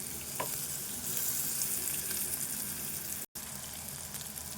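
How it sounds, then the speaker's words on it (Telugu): Fresh ginger garlic paste frying with onion in a pan for Telangana meal maker curry, a constant close hissing sizzle broken by one brief silent gap, with no voices. "ఇప్పుడే దంచుకున్న అల్లము ఎల్లుల్లి పేస్టు ఇది వేగాలి"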